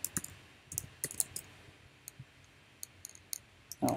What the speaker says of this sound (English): Let's say I type here